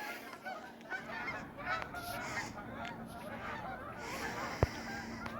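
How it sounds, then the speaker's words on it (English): Geese flying overhead beside the Yellowstone River, honking continuously at a moderate distance, with overlapping calls forming a steady chorus and no talking. "The geese are flying over."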